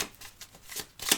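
Tarot cards are shuffled and cut by hand, giving a few quick papery riffles and slaps, close and crisp, ending in a louder final snap of the deck.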